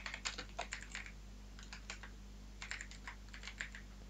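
Light clicking keystrokes on a computer keyboard while coding HTML, typed in short bursts with brief pauses over a steady low hum.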